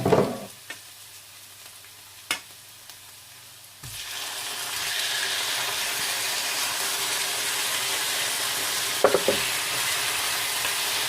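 Chicken breast is dropped into a pan with onion and starts frying, a few clinks and knocks giving way to a loud, steady sizzle that carries on close-up with a brief utensil clatter later.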